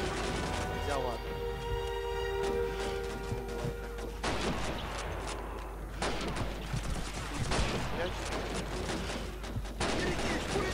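Automatic gunfire from the Soviet campaign of Call of Duty 2, with dense bursts and crashing impacts running the whole stretch over a thick battle din, and a voice speaking under the shooting.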